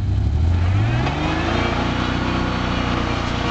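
Ford Bronco II 4x4 off-road, engine revving hard while the wheels spin in place, a loud close-up roar whose pitch climbs at first and then holds steady and strained.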